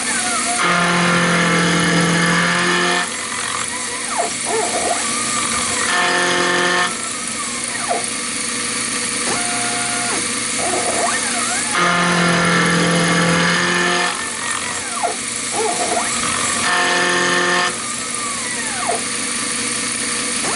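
A shop-built hand shaper cuts a 12-point star wheel in metal, its motorized drive whirring loudly in repeated passes with short pauses and tonal changes between strokes.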